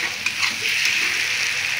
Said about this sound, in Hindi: अब इसमें हम अपने कटी हुई बंधा गोभी डाल देंगे और जो हमने आलू तैयार किया था काट कर वो भी डाल देंगे